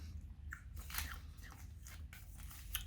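Close crunchy bites and chewing of a Ritter Sport yogurt honey hazelnut chocolate bar, a few crisp cracks spread over a couple of seconds, with no talking.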